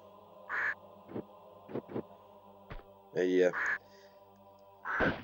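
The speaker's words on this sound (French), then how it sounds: "Ce sont des corbeaux, des corbacs." In the Tomb Raider 2 monastery level, crows caw in several separate calls spread across a quiet background, with a few louder, longer caws near the end.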